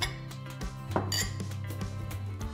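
Dishes are picked up in a kitchen during a Kenwood MultiOne food processor demo, giving a few light close clinks and knocks of crockery over a low steady background hum.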